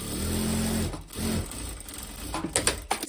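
A sewing machine stitches the side seam of a wrap dress in two motor bursts of whirring, then stops with a few clicks and handling knocks.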